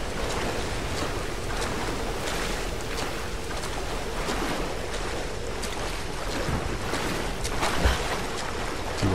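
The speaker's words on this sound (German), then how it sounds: "Da ist ein Wasserfall." Rushing water from a waterfall in the video game Tomb Raider Definitive Edition, a steady broadband roar that runs loud and unbroken throughout with no talking.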